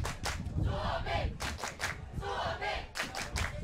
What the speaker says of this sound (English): You can hear the crowd trying swarmy.